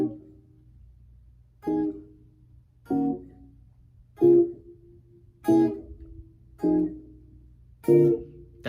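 Guitar playing the chorus of a song: a series of evenly spaced strummed chords, each ringing briefly before the next at a slow, steady pulse, clear and alone.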